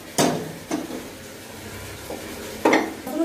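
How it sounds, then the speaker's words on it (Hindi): A metal kadhai is set down on a stove, giving a few separate clanks and scrapes of cookware spread over a few seconds, fairly close and clear with no talking. "कढ़ाई को रख रहे हैं"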